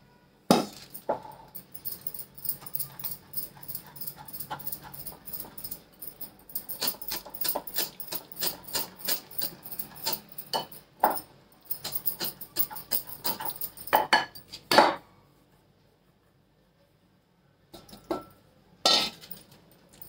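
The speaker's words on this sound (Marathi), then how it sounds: "थोडं थोडं गव्हाचं पीठ आणि साखर याच्यामध्ये ॲड करून हलवून घेते सगळं" Wheat flour and sugar are mixed in a bowl for an eggless whole wheat cake with quick rhythmic strokes of a utensil against the bowl, bursts of clinking taps, then a pause and a few final knocks.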